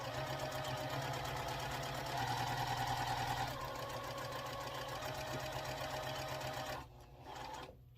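Sewing machine stitching a quilt block seam, a steady rapid mechanical whir and clatter close up that slows briefly midway and then stops near the end.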